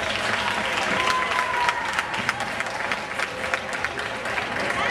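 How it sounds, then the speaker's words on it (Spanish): An audience at a dance show at a fair in Brenes applauds a dancer, a dense, steady roar of clapping with crowd noise and faint voices mixed in throughout. "un aplauso para este de fiesta."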